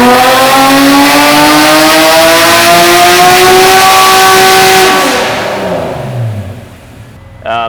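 An Acura NSX engine on a dyno pull climbs steadily in a loud, rising rev for several seconds, then drops off and winds down into a lower, fading rumble.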